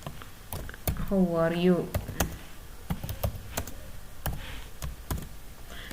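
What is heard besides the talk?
typing on a computer keyboard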